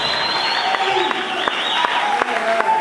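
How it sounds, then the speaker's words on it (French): A church congregation claps together in sustained, dense applause that fills the whole stretch at steady volume, with scattered voices and a sung or called tone riding faintly over the clapping. "Acclamons pour la gloire de notre Seigneur."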